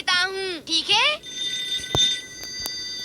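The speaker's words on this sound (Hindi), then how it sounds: "और मैं शिज़ुका को भी फोन करके बुला लेता हूँ, ठीक है?" In a Doraemon cartoon, a cartoon voice speaks briefly, then a telephone rings with a sustained electronic trill and a couple of sharp clicks, heard clearly on its own.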